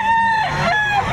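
Rooster crowing at a Saturday chicken market behind SM City Lipa, Batangas, a single loud, close cock-a-doodle-doo lasting about a second, with other birds faint behind it.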